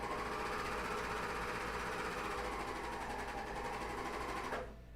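A serger sewing machine stitches through thick fabric with a rapid, steady mechanical whirring and chattering, close and moderately loud, then slows and stops near the end, with no talking.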